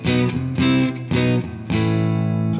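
Crunchy, distorted electric guitar played through an IK Multimedia ToneX amp-modeling pedal, with a few loud sustained chords struck in a row, ringing alone without any voices.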